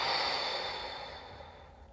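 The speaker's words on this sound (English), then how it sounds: "You could also fill your belly and then your chest, breathing in deeply and then letting it go." A single deep breath drawn in and slowly let out, close and soft, with a steady airy hiss that gradually fades over about two seconds, no talking.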